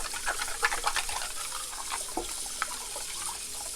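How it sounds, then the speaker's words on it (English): Clams are rubbed against one another in a bowl of water to scrub their shells clean, giving close splashing and sloshing with faint clicks of shell on shell. "the water is starting to turn murky by virtue of the fact that we are rubbing and cleaning off the shells"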